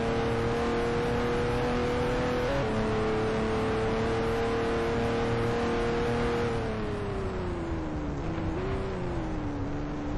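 A race car engine in the Speed Dreams video game drones at a loud, steady high pitch, shifting and easing in tone as the car laps the track, with no voices.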